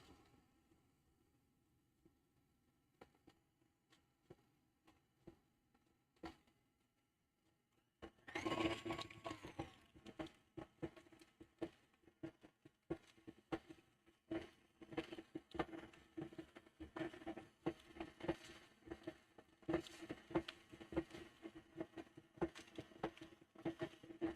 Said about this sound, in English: So mixer on low, adding the applesauce.